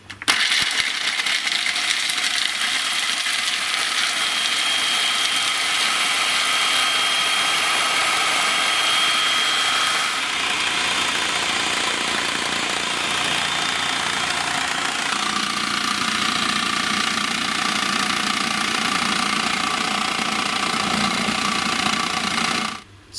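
A food processor grinds macadamia nuts into nut butter, running loud and continuously for over twenty seconds with a harsh whirring, rattling churn that shifts in tone midway, then stops abruptly.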